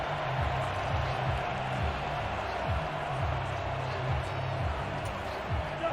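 Home crowd cheering in a Madden NFL 23 Vikings vs Packers game: a steady, dense roar of stadium noise that holds at an even level throughout, with a low rhythmic drone underneath.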